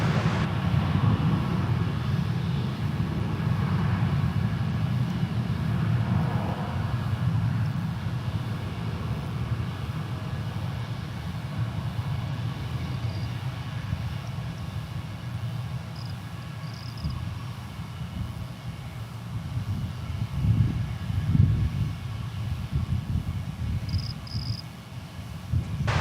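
American Airlines jet on final approach at DFW Airport, a distant, broad low roar that swells and fades over about half a minute, with no talking.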